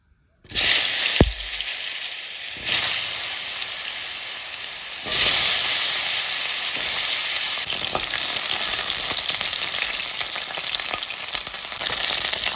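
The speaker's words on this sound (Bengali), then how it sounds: "এবার মাছ ভাজা তেলেই আমি আলুগুলো ভেজে নেব।" Potatoes hit hot oil left over from frying fish in a village kitchen, a sudden sharp splash then a continuous loud crackling sizzle that swells a few times as they are moved about.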